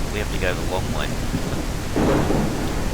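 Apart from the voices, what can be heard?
rain and thunder in the video game No One Survived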